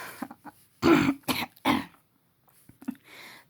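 A woman in a smoky setting clears her throat and coughs close to the mic, giving a few short harsh bursts separated by quiet gaps.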